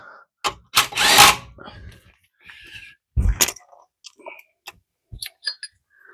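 Wrench tightening 15 mm bolts on a Jeep Dana 30 front axle during an axle swap: loud close bursts of ratcheting and metallic clicking, separated by quiet gaps and scattered small ticks, with no talking.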